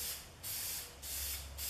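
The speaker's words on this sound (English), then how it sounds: "So I'm going to spray this." Spray paint hissing out of a can in short bursts, a couple of sharp airy blasts with brief pauses between, close by.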